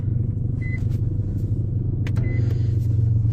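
Steady low rumble of an Infiniti M45's engine idling close by, with a couple of short high electronic beeps from the car over the constant hum.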